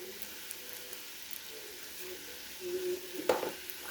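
Mango pieces and asafoetida being stirred in a frying pan for pickle, giving a low steady sizzle with a soft scraping stir that grows louder near the end and a sharp clack of the utensil.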